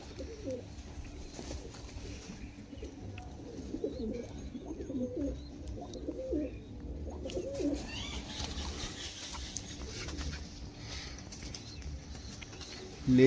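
Several pigeons at a pigeon sale coo close by in soft, repeated bursts while the birds are handled, with faint wing flaps and quiet background chatter.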